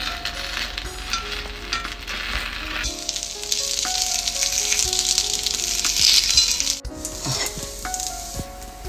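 Kuzhi paniyaram batter sizzles steadily in a paniyaram pan as the dumplings are flipped, making a loud, continuous frying hiss with faint crackles and no talking.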